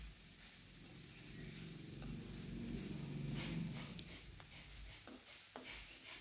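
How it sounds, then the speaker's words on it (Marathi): Grated radish sizzles and is stirred in a pan, giving a quiet, steady frying hiss broken by soft scraping and clinking from the utensil. "आता त्याच्यामध्ये किसलेला मुळ्याचा किस टाकून घ्यायचा आणि चांगला परतून घ्यायचा।"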